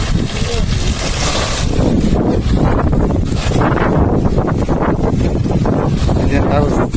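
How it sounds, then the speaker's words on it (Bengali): Strong wind sweeps across a rooftop where a concrete slab has just been poured, roaring and buffeting the microphone in a loud, continuous rush with no break. "বাতাস প্রচুর"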